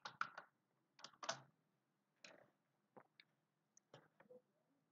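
Typing on a computer keyboard with a Turkish layout, heard as quiet, close key clicks in short irregular bursts separated by pauses.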